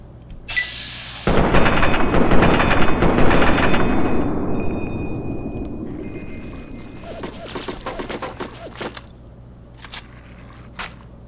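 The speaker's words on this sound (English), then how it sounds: "Machine gun or assault rifle, whatever it's called." Sustained automatic fire from a machine gun or assault rifle in Fallout 3, a long loud rattling burst that fades gradually into scattered single shots and sharp clicks.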